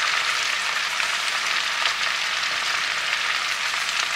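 Potatoes fry in a pan with a steady, even crackling sizzle throughout, close and alone without talk.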